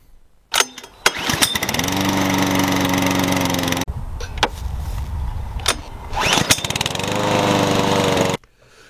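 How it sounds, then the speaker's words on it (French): A Stihl RM 448 TX lawn mower engine starts easily while warm and runs loud and steady close by, with a brief drop in the middle before it roars on again, then cuts off. "Et à chaud, la tondeuse redémarre au quart de tour."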